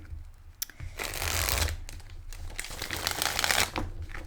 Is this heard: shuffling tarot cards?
yes